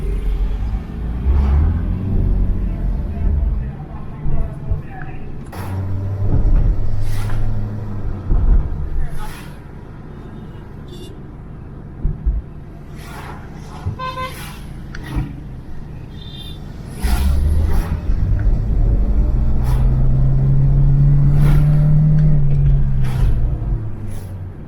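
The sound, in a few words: Honda Insight 2011 car driving on test drive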